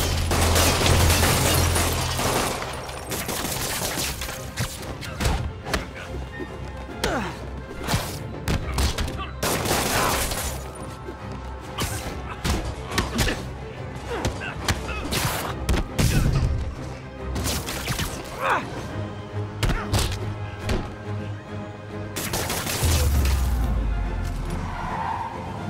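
Gunfire in the Marvel's Spider-Man video game: rapid, dense volleys of shots with crashes and impacts, loud and continuous through a busy game-action scene, with shouting voices mixed in.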